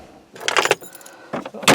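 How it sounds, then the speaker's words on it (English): Car keys jangling inside a car, a few bright metallic rattling bursts close by with short pauses between them, no talking. "Hey, keys. Keys are good."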